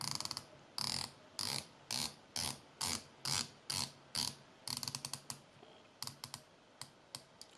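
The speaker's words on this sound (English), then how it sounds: "Let's try the bezel action." A dive watch bezel turns in a run of crisp, evenly spaced ratcheting clicks, close and loud against a quiet background, with brief pauses between bursts.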